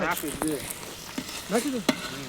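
Tomatoes and chillies tossed into a pan of frying vegetables for veg biryani, giving a soft hissing sizzle beneath loud nearby voices talking over it.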